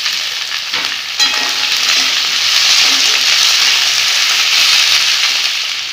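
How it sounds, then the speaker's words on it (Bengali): Potatoes, carrots and yardlong beans fry together in hot oil in a kadai, a loud, steady sizzle close up, with a couple of faint clinks near the start and no talking. "এবার আমি গাজরগুলো দিয়ে দিব। বরবটিগুলোও দিয়ে দিব। সব একসঙ্গে ভেজে নেব।"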